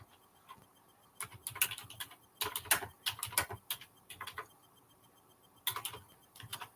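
Typing on a computer keyboard, close and clear, in irregular bursts of rapid key clicks separated by short pauses, with no talking.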